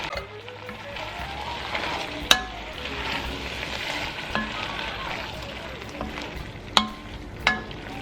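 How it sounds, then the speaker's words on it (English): Tomato paste sizzles quietly in a soup pot with a soft, steady frying hiss, broken by a few sharp clicks and taps of a spoon against the pot as it is stirred. "Give that a stir and cook for about a minute."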